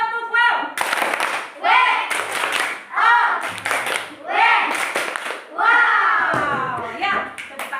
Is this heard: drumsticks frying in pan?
no